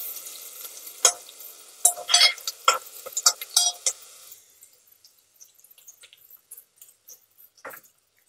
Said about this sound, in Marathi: दोन ते 3 मिनिटं लागतात हा कांदा परतवण्यासाठी इथे.